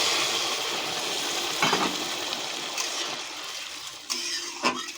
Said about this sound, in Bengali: এর মধ্যে জল ঢেলে দেব। জলটা আগে থেকে গরম করে রেখেছিলাম, সেখানে আমরা গরম জলই দিলাম।